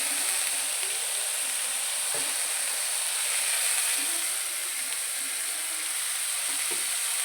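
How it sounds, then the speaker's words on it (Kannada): Poha mixture frying in a pan over a low flame, a steady, close hiss and sizzle throughout, with a couple of faint knocks from stirring. "ಈಗ ಇದನ್ನೆಲ್ಲ ಚೆನ್ನಾಗಿ ಫ್ರೈ ಮಾಡ್ಕೊಳ್ತೀನಿ. ಸಣ್ಣ ಉರಿನಲ್ಲಿ ಇದನ್ನೆಲ್ಲ ಚೆನ್ನಾಗಿ ಫ್ರೈ ಮಾಡ್ಕೊಳ್ಳೋದಕ್ಕೆ."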